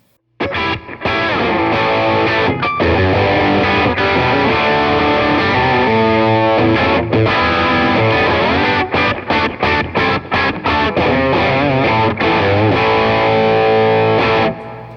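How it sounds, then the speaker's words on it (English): An electric guitar plays through a Fender MTG Tube Distortion pedal built with a real vacuum tube, sustained saturated chords ringing out before a run of choppy, stabbed strums near the end. "That's the MTG Tube Distortion pedal."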